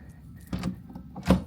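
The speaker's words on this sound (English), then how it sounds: "Door's gonna swing out." A cruise ship stateroom veranda door being opened, two soft thuds and scrapes of the door moving, heard close in a quiet room.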